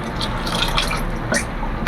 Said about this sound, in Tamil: அந்த புளி தண்ணியை ஊற்றியும்